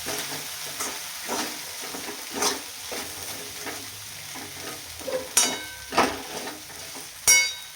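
Sabudana khichdi stirred and mixed in a pan, a spoon scraping and pushing through it in repeated strokes over a soft continuous sizzle, with a few sharper clanks against the pan near the end.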